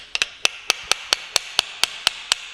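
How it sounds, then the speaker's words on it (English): A surgical rasp is hammered into bone during rotating hinge knee replacement surgery in an operating room, struck about eleven times in a steady, quick rhythm of sharp, close metallic taps. "you can push in with this rasp and bring it a little down, and then you can hammer it"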